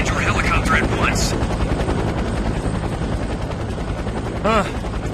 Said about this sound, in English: Drop altitude and land your helicopter at once.